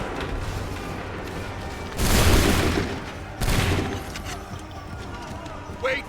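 Two loud musket volleys from soldiers in the Assassin's Creed III video game crash out about a second apart, each a broad burst of overlapping shots fading into a noisy battlefield background.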